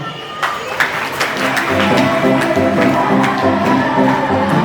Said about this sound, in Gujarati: મિત્રો રોકડા પૈસાને માટે કંઈક તાળી પાડી દે.